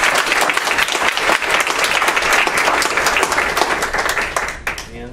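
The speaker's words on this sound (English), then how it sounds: "let's give Chelsea a round of applause" Audience applause at a cancer prevention symposium award moment, sustained dense clapping from a full room that stays loud and even before tapering off at the end.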